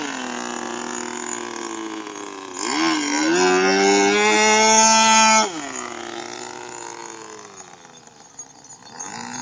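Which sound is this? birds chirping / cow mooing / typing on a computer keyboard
cow mooing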